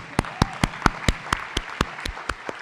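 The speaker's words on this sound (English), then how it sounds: "Let's give them a round of applause" A single person claps about a dozen times in a quick, even rhythm for school administrators at a summer school commencement, each clap sharp and distinct, with no crowd behind it.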